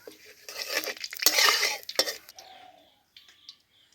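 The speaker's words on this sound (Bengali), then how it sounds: "তেজপাতা পাঁচফোড়ন দিয়ে একটু নেড়ে নিলাম" Bay leaf and five-spice being stirred in mustard oil in a pan, with a few bursts of metal utensil scraping and clinking against the cookware, close and moderately loud, fading to quiet by the end.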